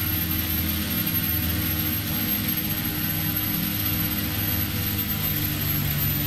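A propeller aircraft in X-Plane 10 taxis with heavy throttle, a loud, steady engine and prop drone with strong low tones that holds continuously with no talk.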